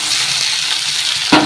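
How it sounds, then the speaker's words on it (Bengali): Chopped ginger, garlic, chili, tomato and onion fry loudly in a pan, a dense steady sizzle with a brief stir or clatter near the end. "এবার এগুলো ভালো করে ভাজতে হবে।"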